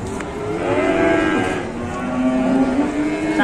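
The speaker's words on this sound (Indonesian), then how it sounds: "Astaga, sapi ini ucul." Cattle unloaded from a truck break loose and moo loudly, a long sustained bellow with strong harmonic tones carrying through most of the moment, close and forceful.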